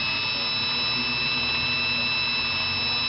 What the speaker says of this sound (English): Don't wind your bobbin too fast.